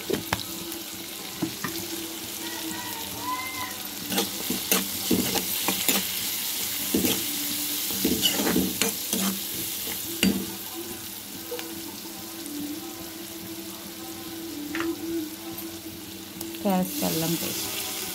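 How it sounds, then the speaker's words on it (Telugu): Green chillies and capsicum fry in hot oil in a pan, a steady close sizzle with scattered stirring scrapes and clinks throughout and a louder burst of clatter near the end. "పచ్చిమిరపకాయ వేసేసా, క్యాప్సికం కూడా వేసేసా కొంచెం వేగుద్దని"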